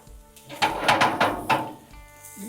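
Thinly sliced onions hit avocado oil on a hot plancha, crackling and sizzling in a few quick bursts mixed with metal utensil scrapes and clinks, close and fairly loud.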